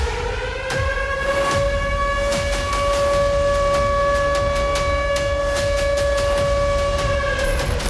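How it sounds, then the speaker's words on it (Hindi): Air raid alert sirens in Isfahan wail as one steady, loud sustained tone with rich harmonics, holding for the whole stretch without pause. "धमाके के साथ ही इस्फहान में अलर्ट सायरन गूंजने लगे।"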